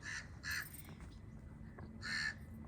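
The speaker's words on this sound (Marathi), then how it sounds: "ती कावळा वरडायला लागला" A crow caws three times, harsh and fairly clear, the first two close together and the third after a short pause, over quiet background hum.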